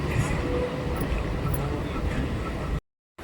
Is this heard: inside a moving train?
yes